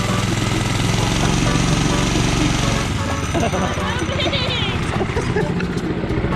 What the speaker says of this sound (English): Let off the brake. Let off the brake, Coop. Oh, you're off of it? Okay, get more gas